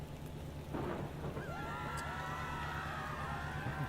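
A thunderstorm in the Parkitect theme-park building game: steady rain hisses and a crash of thunder rumbles in, followed by a rising, wavering squeal like distant screams. The sound is faint overall.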